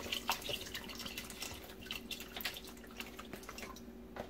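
Liquid being topped off into a Fissler pressure cooker, a light trickling and dripping with faint splashes running steadily throughout at close range, no voices.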